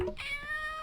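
A cat meows in one clear, drawn-out cry, close and moderately loud, with no talking over it.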